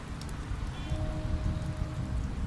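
Rain falls in a steady, even hiss outdoors around a car, with a low rumble underneath and a faint tonal whine in the background.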